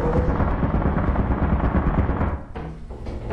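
Turret gunfire in the video game Lethal Company rattles in a loud, dense, continuous burst that drops off briefly near the end before resuming more faintly.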